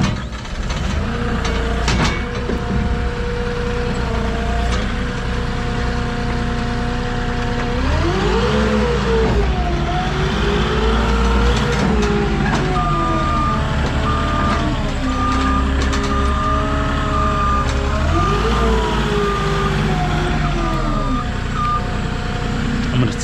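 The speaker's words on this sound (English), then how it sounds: "we're gonna get up on the forklift" A forklift's engine runs steadily at a lumber yard where heavy, double-stacked 20-foot pressure-treated lumber is being handled. Repeated reversing beeps sound loudly over the engine in the second half, with some movement noise throughout.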